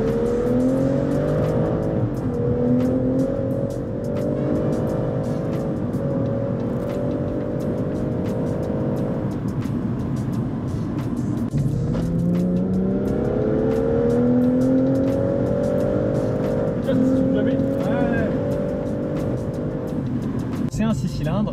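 A BMW M240i's 3-litre single-turbo six-cylinder engine revs repeatedly, climbing and falling in pitch over steady low rumble, loud and close, with a few rising sweeps.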